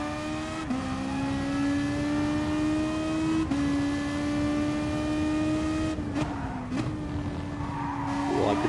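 A race car engine in a racing game holds a steady high drone with gear-shift dips, as the driver floors the throttle and tires squeal near the end, with no talk.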